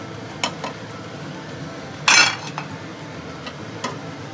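Cinnamon pieces and cloves go into hot oil in a pot: scattered light clinks of a utensil against metal surround one short, bright sizzling burst at close range.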